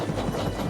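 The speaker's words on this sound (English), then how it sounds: "Who's that puffing down the track?" A steam locomotive rumbles along the rails with a steady rhythmic chugging puff and clatter, close and continuous for a brief moment.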